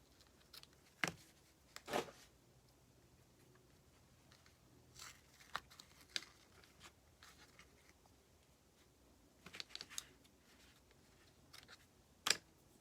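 Scissors make quiet, sparse snips and paper rustles while trimming paper for a handmade card during a home craft session, with faint handling noises between the cuts.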